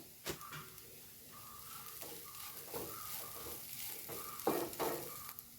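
A chicken cutlet mixture is stirred in a pan, giving soft scraping and light sizzling with scattered spoon knocks against the pan, close and moderately quiet throughout.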